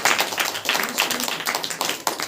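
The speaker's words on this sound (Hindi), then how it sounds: "ताली बजा करके धन्यवाद दीजिए" A congregation at a Saturday Christian prayer meeting claps together in a steady, fast rhythm, with the dense hand claps close and continuous throughout.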